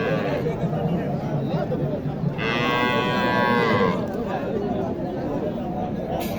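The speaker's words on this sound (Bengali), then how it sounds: "এখানে একটি গরু দেখতেছি আমি" A cow moos in a long, loud, drawn-out call at a busy cattle market, with crowd chatter and nearby voices running underneath before and after.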